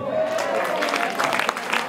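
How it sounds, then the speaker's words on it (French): Audience applauding the organisers at a live music event in Abidjan, a steady dense clatter of many hands with crowd noise and a sustained tone underneath, lasting throughout. "je voudrais que vous puissiez applaudir les organisateurs"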